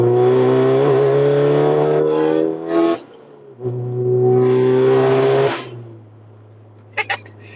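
Inside a car in traffic, the engine revs hard and climbs in pitch twice, with a gear change between the pulls as it accelerates around another vehicle, then drops back to a low idle hum.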